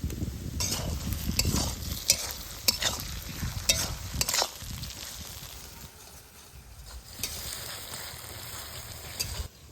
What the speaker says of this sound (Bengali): এবার একসঙ্গে ভালোভাবে নাড়িচাড়ি নিব।